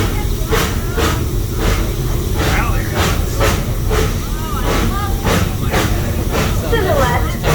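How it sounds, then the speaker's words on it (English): The Henry Doorly Zoo train in Omaha rolls along with a constant loud hiss and rumble, regular wheel clicks and occasional squeals, while a voice talks over the running noise. "remain seated while the train is in motion"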